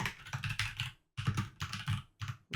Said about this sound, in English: Oh, I think we started typing the same box.